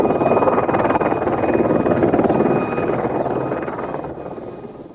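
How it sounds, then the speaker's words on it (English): A low, steady rotor rumble from two helicopters hovering over blocks of flats fills the air overhead, continuous and broad, slowly easing off toward the end as if moving away. "there were two helicopters hovering above the flats."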